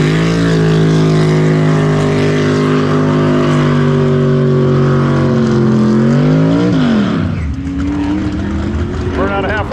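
Loud race-car engine howl from a big-tire 1969 Camaro drag racing a Tesla Plaid, a sustained rising tone that climbs, then drops sharply as it passes, followed by fainter engine noise and a voice talking.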